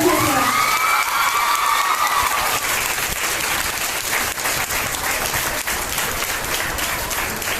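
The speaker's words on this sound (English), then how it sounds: "Give them a big round of applause." A loud, dense round of applause from an audience after a girls' performance at the Feminora 2021 event, with cheering and shouting voices rising early, then sustained clapping that carries on evenly throughout.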